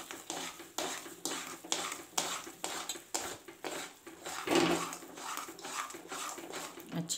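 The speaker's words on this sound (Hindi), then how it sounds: "तब इसको लगातार चलाते हुए मिक्स करते हैं।" Grated coconut and sugar being stirred nonstop in a kadhai for a Mahashivratri sweet, with rhythmic spoon scrapes and clinks against the pan, close and steady, a faint voice at times.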